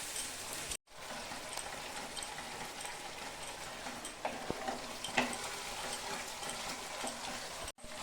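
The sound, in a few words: onion frying in a pan for chicken rezala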